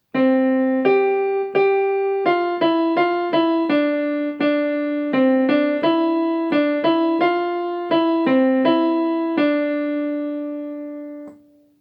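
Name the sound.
electronic keyboard playing melody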